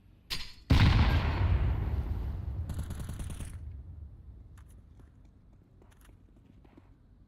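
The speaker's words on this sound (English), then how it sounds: "I'm gonna grenade that smoke. Grenade out." A grenade blast in a tactical shooter game bursts loud and broadband, rumbling and decaying over several seconds into a quieter tail with a few faint clicks afterward.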